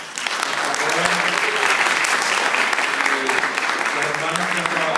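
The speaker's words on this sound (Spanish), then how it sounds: "Denle un aplauso." A church congregation applauds at a Christmas service, steady dense clapping from many hands sustained for about five seconds, with a low murmur of voices underneath.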